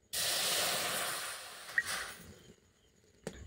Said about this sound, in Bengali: কড়াইয়ের মধ্যে আমি দিয়ে দেব জল।